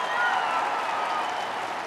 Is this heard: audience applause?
yes